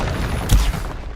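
Confringo blasting spell in Hogwarts Legacy goes off as a single close, booming explosive burst amid a dense, noisy rumble of combat.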